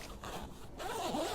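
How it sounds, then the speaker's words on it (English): A zipper on a camper trailer cabin tent is pulled open in one quick, close, continuous rasping zip lasting just over a second. "So there's 3 zips on your driver's side"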